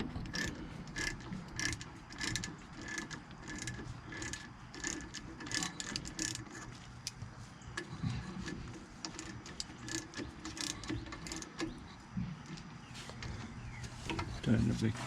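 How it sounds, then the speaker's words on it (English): A ratchet clicks rapidly and repeatedly while tightening the bottom brake caliper bolt on a 2003 Ford F150, a close, quiet burst of ticking strokes with a short pause partway through. "Tighten up the bottom caliper bolt"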